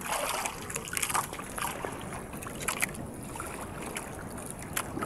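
A small boat moving on water, with steady low rumble and washing, splashy noise, plus occasional wind buffeting the microphone; fairly quiet and with no talking.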